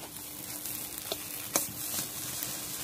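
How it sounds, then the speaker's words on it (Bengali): Mashed potato being sautéed in a pan, giving a soft, steady sizzle with a few light scraping clicks from stirring, fairly quiet and close, with no voices. "এটাকে 1 মিনিটের মতো একটু ভালো করে কষিয়ে নেব"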